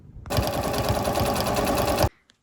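A sewing machine stitches a loosely woven thrift store tablecloth for a garment. It gives one close, steady, fast whir of about two seconds that starts and stops abruptly, with no voices.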